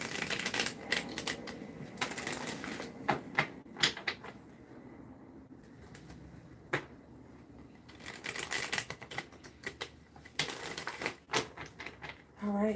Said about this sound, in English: 3 shuffles, and then I will cut the cards.